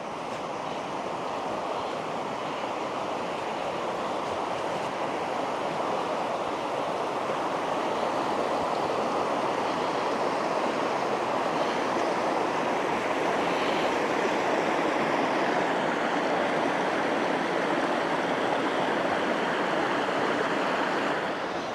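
A river in rural Wales in late September rushes steadily and loudly over its bed, a dense continuous wash of flowing water with some wind noise, heard close and alone without any talk.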